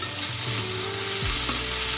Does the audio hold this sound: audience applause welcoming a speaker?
no